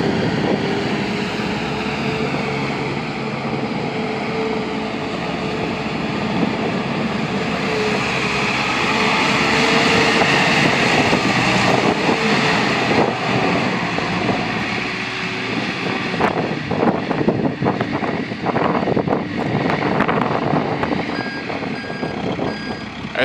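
A 2007 Caterpillar TL943 telehandler engine runs steadily and loud nearby as the machine works through its gears, with a continuous reversing beep sounding over the drone and some rattling toward the end.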